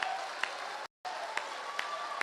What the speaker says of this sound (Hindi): कमजोर तालियां, माफ करना मुझे।